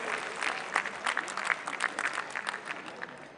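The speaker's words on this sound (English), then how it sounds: "Please give him a round of applause and welcome him." A convention audience applauds to welcome a singer at a birth-anniversary event, scattered individual claps rising and falling in a moderate, slightly uneven patter that is fairly close and unaccompanied by talk.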